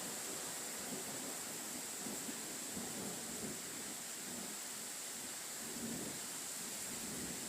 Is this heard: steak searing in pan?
no